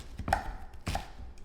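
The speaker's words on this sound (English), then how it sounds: "while we chop these vegetables" Knife chopping a small garden onion on a cutting board, two sharp close thuds about half a second apart with faint lighter taps between.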